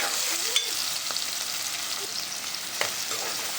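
Onions frying in a pan with green chillies for urad dal, a continuous close sizzle with occasional stirring scrapes and a couple of sharp utensil knocks.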